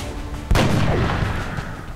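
A single loud gunshot cracks suddenly in X-COM: Enemy Unknown, fired at a zombie, followed by a short rumbling echo that fades over a second and a half.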